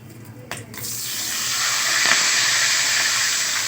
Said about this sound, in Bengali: তেল গরম হয়ে গেছে, এখন গোটা গরম মশলা ফোড়ন দিয়ে দেবো।